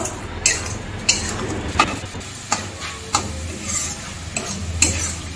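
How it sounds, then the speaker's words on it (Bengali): A spoon stirs a coconut and sugar filling in a pan for dudh puli, making steady, rhythmic scraping strokes about once a second with a faint sizzle underneath and no voices. "তো বন্ধুরা, এইভাবে নেড়ে চেড়ে নারকেলের পুরটাকে তৈরি করে নেব"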